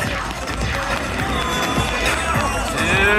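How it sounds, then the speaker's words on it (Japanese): Crowd at a moguls ski jump session at the Sapporo Snow Festival cheering and applauding continuously, a dense roar of voices and clapping with an announcer talking over it. "皆さん大きな拍手お願いします。"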